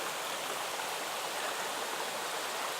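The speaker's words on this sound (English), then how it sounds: "We're just past that creek crossing." A creek at a trail crossing in the Nantahala National Forest rushes steadily, a broad, even wash of flowing water close by with no pauses or other sounds.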